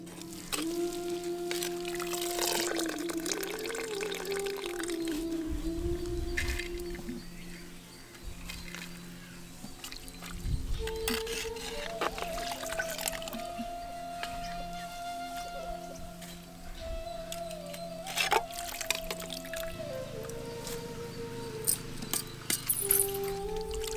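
Dried fish are rinsed in hot water in a village kitchen, with soft pouring, trickling and dribbling water that comes in uneven bursts over a persistent tonal background hum.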